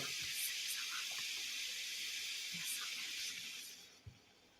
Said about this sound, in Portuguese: Só esquentar uma panela e jogando água aos poucos